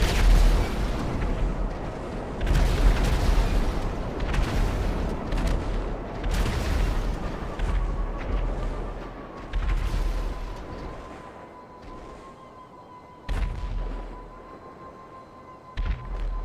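Missiles exploding in GTA Online during a flight in a Deluxo, with heavy booming blasts layered over a continuous rumbling roar and a steady engine whine, loud and dense, with a few sharper bangs near the end.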